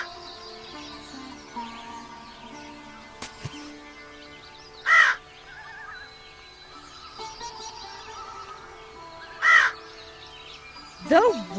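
A crow caws three times, short sharp calls spaced several seconds apart over a faint steady background hum, fairly near and clear.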